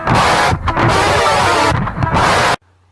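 Dense, noisy distorted guitar, loud and continuous as it runs up and down atonal scales with little variety, briefly thinning twice before cutting off abruptly into near silence.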